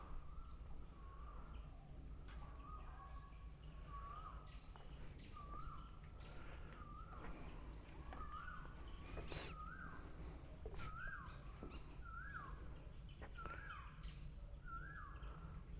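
A fantail bird calls beside a tidal creek in Pranburi, Thailand, repeating short, rising, whistled notes at a regular pace. The calls are faint and carry over a soft, steady outdoor background.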